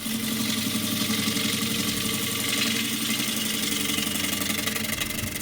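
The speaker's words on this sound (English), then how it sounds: "this is the 16 mil spindle gouge" A 16 mm spindle gouge cutting wood on a spinning lathe: a continuous, even whirring hum with a rough, scratchy cutting texture, steady and close with no speech.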